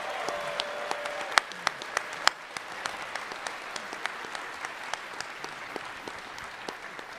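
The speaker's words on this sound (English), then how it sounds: "Give yourselves all a round of applause!" Convention audience at a furry convention closing ceremony giving a sustained round of applause, dense clapping from a large hall with a few sharper claps standing out near the start, heard alone without speech.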